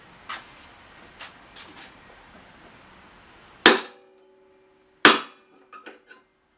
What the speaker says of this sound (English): Take a big old hammer